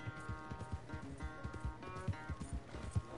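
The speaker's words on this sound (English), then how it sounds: "This is a beautiful horse, though." Horse hooves clip-clopping in Red Dead Redemption 2, a steady trotting rhythm of close thuds over a layered musical background, with no talking.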